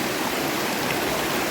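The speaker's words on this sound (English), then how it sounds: "Guys, look at this river." River water rushing over rocks in Jamaica, a steady broadband roar of flowing current, close and continuous with no voices.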